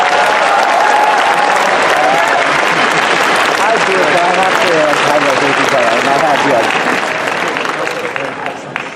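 A large convention panel crowd at Bronycon gives loud, sustained applause with cheering voices mixed in, the clapping staying dense before easing slightly at the very end.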